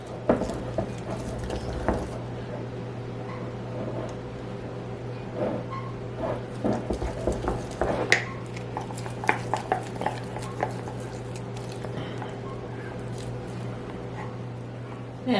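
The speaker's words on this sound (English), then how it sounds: "Mix it all up." A spatula stirs a homemade sourdough starter in a bowl, making faint, scattered scraping and soft clicks over a steady background hum.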